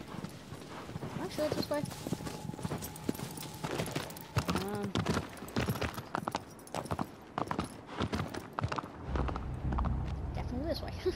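Hooves of a horse clip-clop steadily in Shadow of the Colossus, a regular walking rhythm close by, while someone talks over the sound at times.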